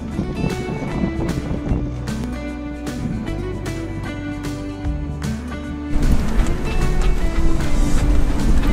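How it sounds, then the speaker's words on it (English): Wind buffets the microphone aboard a sailboat on open water, rumbling steadily before a stronger gust of 24 knots roars in over the last few seconds. "Gust of 24 knots."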